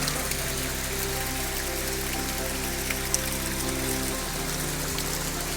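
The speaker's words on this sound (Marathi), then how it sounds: "इथं खडकामधून पाणी कसं पाझरून येत आहे" Water seeps and trickles out of rock at the Shingnapur Guptling shrine, a steady soft splashing wash that continues evenly without a break.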